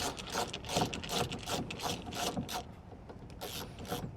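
Rapid ratcheting clicks come from a screw being undone on a car door lock assembly from a 2004-2008 Acura TSX/TL or 2003-2007 Honda Accord, a close, continuous stream of tool clicks.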